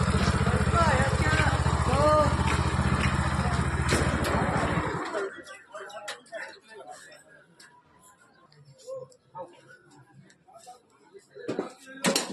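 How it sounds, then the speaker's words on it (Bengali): A homemade car powered by a motorbike engine runs with a loud, steady buzzing drone that cuts off abruptly after about five seconds, followed by quieter clanks and handling noises up close. "গাড়িটা স্টার্ট হয়ে গেছে"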